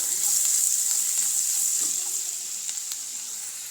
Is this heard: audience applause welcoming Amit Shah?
no